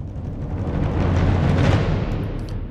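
A drum roll patch from an orchestral sample library, a dense low rumble that swells to a peak and then fades out over about three seconds, heard alone without any voice.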